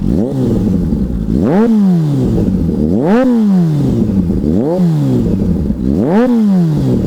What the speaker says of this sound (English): have a real good listen to what this bike sounds like with the new exhaust and the baffle out